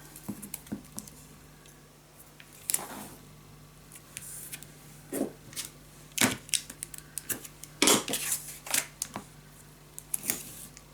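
Tape being pulled and pressed onto craft pieces for a keepsake treehouse box: irregular close crackles, snaps and tearing bursts over a steady background hum, with no talking.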